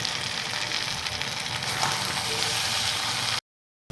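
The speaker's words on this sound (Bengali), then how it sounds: "মাংস কষানো হয়ে গেছে আলু দিয়ে" Marinated mutton and potatoes fry in spices, giving a steady, moderately quiet sizzle that cuts off abruptly near the end, with no talking.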